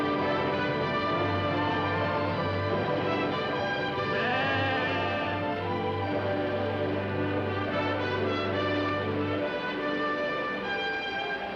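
Sheep bleat with drawn-out, wavering cries over a steady droning tonal background that continues throughout.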